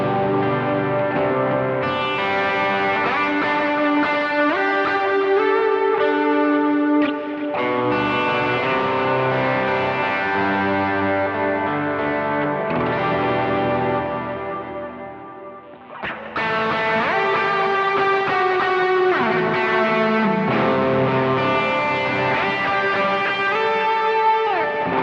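Electric guitar through a mini overdrive preamp pedal plays sustained, gritty chords and melodic lines, ringing loudly with a brief dip before the playing resumes.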